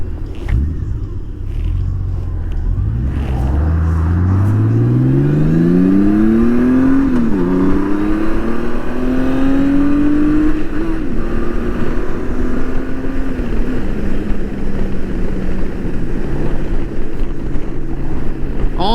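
A Honda GL1800 Goldwing motorcycle rides through Cambridge, its engine note climbing steadily in pitch as it accelerates through the gears and then settling into a loud cruising drone with wind buffeting the microphone.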